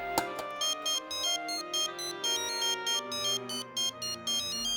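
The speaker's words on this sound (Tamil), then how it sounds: "டாடி உங்களுக்கு ஃபோன்" A phone plays a ringtone in a Tamil TV serial scene. A bright electronic melody repeats in short, regular bursts, fairly quiet and heard alone.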